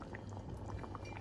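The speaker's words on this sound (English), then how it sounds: "it's bubbling, so I think the water has properly heated" Water in a cooking pot boils, a soft steady bubbling and popping at low volume, heard close with no talk.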